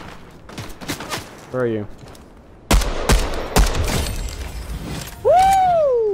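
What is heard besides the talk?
gunfire from a battle royale video game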